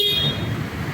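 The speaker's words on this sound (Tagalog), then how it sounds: "So, ito po yung kanyang horn." The horn of a 2024 Rusi Sparkle 125i motor scooter sounds in one short, close blast, followed by a low idling hum.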